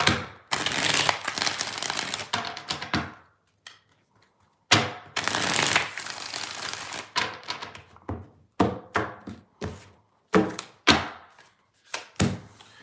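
Tarot cards being shuffled up close, a couple of long riffling bursts followed by several shorter quick shuffles and taps, with no talking.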